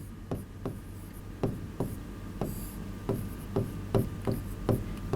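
Chalk or marker strokes on a board during a chemistry lecture, a string of sharp taps and short scratches spaced irregularly, close and clear with no talk over them.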